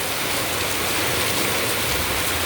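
Heavy monsoon downpour, with wind driving water indoors, pours down as a dense, steady roaring hiss that fills the whole stretch without a break, close and loud.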